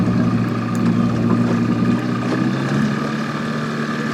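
A boat's outboard motor runs steadily through weedy swamp water in Maine, a close, continuous drone with some wind noise over the microphone.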